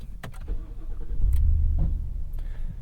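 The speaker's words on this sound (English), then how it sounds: "before we start up the truck" A 2023 Ford F-250 crew cab pickup with the 7.3 engine cranks and fires up, a brief starter whir giving way to a deep, steady idle rumble that swells and holds close by, with no talking.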